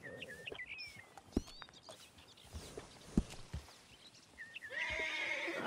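In Red Dead Redemption 2, a horse whinnies several times in rising squeals while hooves clop unevenly nearby, ending in a louder, drawn-out neigh.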